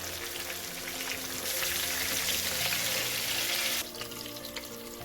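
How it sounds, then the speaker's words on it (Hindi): Tomatoes frying in oil over a high flame, a constant close hissing sizzle that swells louder in the middle and then eases back, with no voices. "तो टमाटोज को पकते हुए 1 से 2 मिनट हो चुके हैं।"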